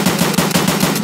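Rapid automatic gunfire in the video game Escape from Tarkov, a loud, steady burst of shots firing in quick rhythm for the whole second, with no talk over it.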